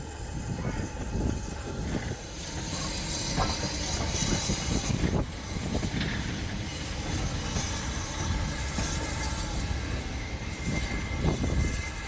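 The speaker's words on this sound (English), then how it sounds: "We wait a short while until the up express thunders through" Up express steam train thundering through a loop on the Great Central Railway heritage line during an autumn steam gala, a sustained rumbling roar of wheels and carriages passing, moderately loud and steady with rising bursts.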